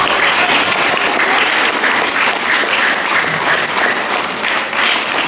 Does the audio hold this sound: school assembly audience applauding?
yes